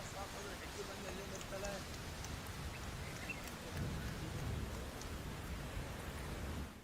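Heavy rain pours down steadily during a downpour in Solapur, a dense hiss with low rumbling swells that could be distant thunder, and muffled voices underneath.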